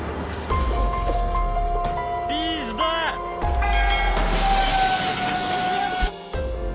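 A train rolls past a station platform with a loud, steady rumble and a clanking, screeching rail sound. A horn-like tone sounds briefly partway through.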